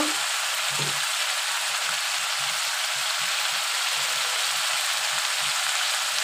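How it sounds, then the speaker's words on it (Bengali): Spices frying in a pan for a prawn curry give a dense, constant hiss of sizzling oil, close and even, with soft low knocks of stirring scattered beneath it and no talking. "এখন আমি ভালো করে কষিয়ে নিব।"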